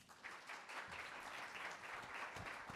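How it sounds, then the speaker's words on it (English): Audience applause for panel speakers at an innovation panel session, a steady wash of many hands clapping at moderate distance that holds evenly from start to finish with no voices. "let's give our speakers a warm round of applause"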